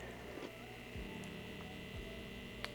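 A Bellesa Whispertech vibrator runs very quietly right beside a microphone, giving a faint, steady low hum with a few soft clicks and no talk over it.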